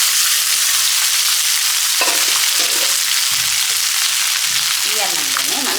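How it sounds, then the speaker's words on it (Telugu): Cooked rice tipped into a pan of curry leaves and dal fried in oil for curry leaf rice, giving a steady loud sizzle with bursts of stirring and scraping, no talking. "ఇప్పుడు మనం వండి పెట్టుకున్న అన్నం వేసుకోవాలి"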